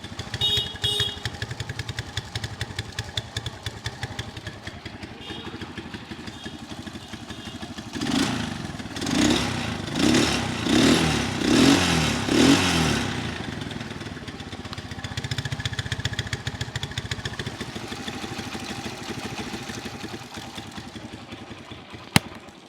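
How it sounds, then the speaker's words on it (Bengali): A used Dayang 100cc motorcycle engine runs steadily at idle nearby, then revs in a series of rhythmic bursts mid-way before settling back to a steady idle. "গাড়িটা এখন স্টার্ট অবস্থায় আছে। যদি ইঞ্জিনের সাউন্ড আপনারা শোনেন,"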